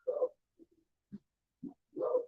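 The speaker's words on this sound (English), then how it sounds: "This dog does not shut up." A dog barks several times in short bursts, nearby and fairly loud, with longer barks at the start and end and brief yips between.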